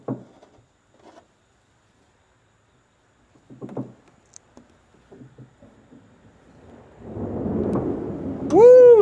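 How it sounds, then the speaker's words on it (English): An approaching storm rolls in outdoors, starting with scattered soft knocks and building into a low, swelling rumble of thunder that grows loud in the final seconds. "that storm is coming in"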